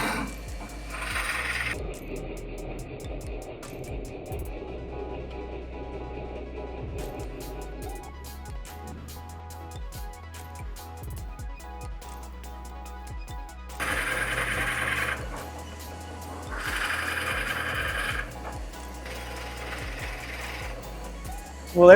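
Drill press running at a lower speed, a steady mechanical whir with rattling, ticking clicks, broken by a few louder bursts of cutting noise.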